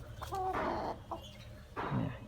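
A bantam rooster, a jungle fowl mix about seven months old, clucks in a few short, close bursts with brief pauses between them.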